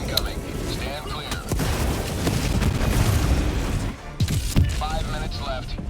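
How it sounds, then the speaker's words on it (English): Orbital barrage explosions in an online shooter video game rumble as a continuous low roar of booms over six seconds, with a voice talking over parts of it. "Orbital barrage incoming."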